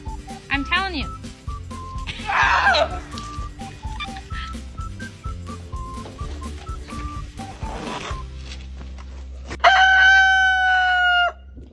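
A rooster crows loudly near the end, a long drawn-out call, after earlier softer clucks and squawks from the bird. People talk throughout against steady background noise.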